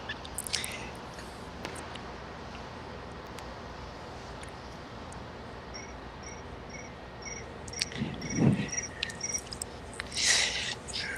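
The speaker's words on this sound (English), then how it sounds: "It's actually a ringtone from a cell phone" A cricket-chirp cell phone ringtone sounds in short, evenly spaced electronic bursts during a curling broadcast, fairly faint over a hissy background, with a low thud and some rustling near the end.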